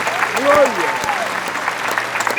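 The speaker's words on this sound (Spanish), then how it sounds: "denle el aplauso fuerte a Dios" A church congregation claps loudly and steadily in a dense wash of applause for God, with a Spanish-speaking voice briefly rising over the crowd.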